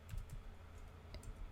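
Quiet keystrokes tap on a computer keyboard while router commands are entered, a short irregular run of soft clicks close by under a low background hum.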